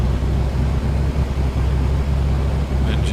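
A2A Comanche 250 light aircraft engine cranking and catching in a flight simulator, a loud steady low rumble with uneven pulsing beats, close and continuous throughout with no talk.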